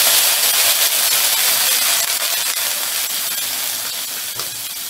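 Water poured into a hot pan with ginger paste and fennel paste hisses into steam, a loud, steady broadband hiss that runs the whole time and eases off only slightly toward the end.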